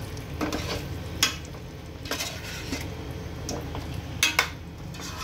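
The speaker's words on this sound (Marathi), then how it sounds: "ह्याच्यामध्ये ह्या सर्व उकडवलेल्या भाज्या टाकून घेऊया आणि वाटपाबरोबर एकजीव करून घेऊया" A spoon stirs boiled vegetables into ground masala paste in a pan, with a few distinct scraping clanks against the metal over a soft background sizzle.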